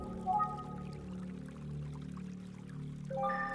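Shallow stream in a video game flowing steadily, a continuous watery rush with a louder pouring swell near the start, alone without talk, with faint chimes and tones from the game entering at the end.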